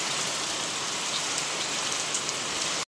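A village rain shower falls steadily on surfaces nearby: a dense, even hiss of drops that holds unbroken at a constant loudness, then cuts off abruptly.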